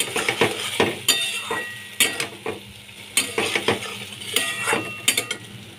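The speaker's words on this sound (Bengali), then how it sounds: "এবার ভেজে রাখা আলুগুলো এর মধ্যে দিয়ে দিলাম। ভালো করে মিশিয়ে নিলাম।" A spatula scrapes and clinks rhythmically against a pan while fried potatoes are stirred into ridge gourd, with soft sizzling underneath and repeated sharp metallic knocks, close and without voices.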